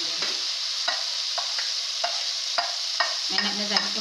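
Potato and pea pieces frying in a pan are stirred with repeated spoon scrapes, sharp clinks and scuffs at a steady rhythm over a continuous close sizzle, with no talking.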